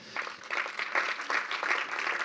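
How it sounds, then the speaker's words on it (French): Audience applause for P&G, named category winner at a French advertisers' awards ceremony, a steady wash of many hands clapping from a hall crowd, fairly soft and sustained throughout. "Le grand gagnant dans cette catégorie est P&G, qu'on peut applaudir bien fort"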